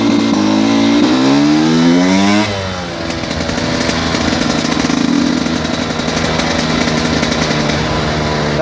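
A motorcycle engine revs hard and loud, its pitch climbing through the gears before dropping back to a steady high drone as the bike rides through an industrial area.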